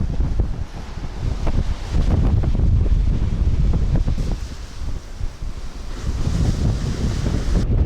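Ocean waves wash and rumble on a beach at Cabo de la Vela, Colombia, under strong gusting wind that buffets the microphone, a continuous loud roar with no talking.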